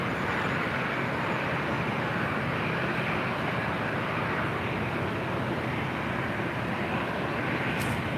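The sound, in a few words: ZIPAIR jet rolling for takeoff on runway 24 left, LAX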